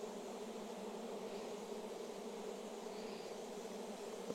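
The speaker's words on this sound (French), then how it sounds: "Mais en tout cas, là, ouais, il y a beaucoup d'abeilles." A large honeybee swarm of about four kilograms buzzes around a hive being handled by a beekeeper, a steady, soft, dense drone that holds evenly throughout with no voices.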